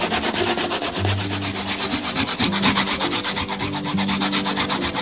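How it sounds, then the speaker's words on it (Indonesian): Food is rubbed over a very fine kitchen grater while making a simple cake, producing a loud, steady, rhythmic rasping stroke after stroke, close up with no talking. "Kemudian kita akan parut ya, dengan parutan yang benar-benar parutan halus ya"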